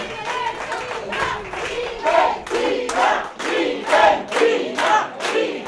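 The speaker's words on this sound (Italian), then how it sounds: "Si alza l'urlo dei tifosi a seguito della squadra trevigiana" Supporters of Liventina, a youth football side from Motta di Livenza, cheer and shout in waves from a crowd at a match, with rising roars and scattered clapping throughout.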